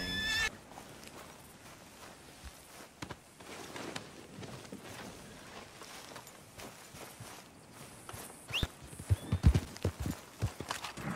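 Horse hooves clip-clop at a steady riding gait in Red Dead Redemption 2, a rhythmic patter under game ambience that grows louder and sharper toward the end, with a brief whinny-like cry early on.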